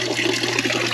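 A small waterfall runs steadily inside a snake enclosure, giving a continuous close splashing and trickling wash of water with no break for the full second.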